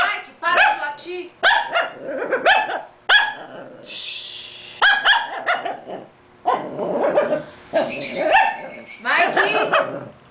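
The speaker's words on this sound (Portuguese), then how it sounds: "Mike, para de latir." A dog barks repeatedly at close range, mixed with excited yips, while people talk over and between the barks.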